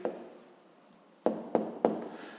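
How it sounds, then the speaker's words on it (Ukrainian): Pen writing an answer by hand on paper during a fifth-grade math exercise, a soft scratch at the start, then three quick distinct strokes close by. "Записуємо тоді відповідь."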